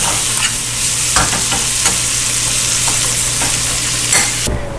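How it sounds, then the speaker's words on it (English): Short rib sauce sautéing in a pan with salt, pepper and lemon juice, a steady close sizzle with occasional scraping stirs. "We're gonna give this a good quick saute."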